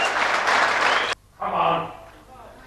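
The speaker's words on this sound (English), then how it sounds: "And he acknowledges the cheers of his fans." Fans of a 25-year-old Icelandic strongman, Jon Pall Sigmarsson, applaud and cheer loudly after a lift. The burst cuts off sharply, then a second, softer swell of crowd noise rises and fades.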